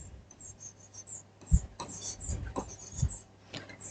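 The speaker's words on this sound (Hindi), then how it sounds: "इसको मैं यहां लिख दे रही हूं" Marker or chalk writing on a board during a current affairs lesson, heard as soft scratchy strokes broken by a few sharper taps as letters are formed, fairly close and without talk.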